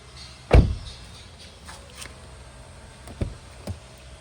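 A Honda Civic Type R door fitted with sound-dampening material shuts with one solid, dull thud, followed by a few fainter knocks and clicks at close range.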